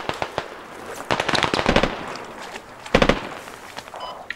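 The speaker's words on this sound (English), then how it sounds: "HE grenades are going out. Please make sure you're not inside. I'm throwing a nade in." HE grenades go off in the video game Squad, a series of sharp cracks and bursts, some clustered in quick succession, followed by a louder pair of blasts near the end.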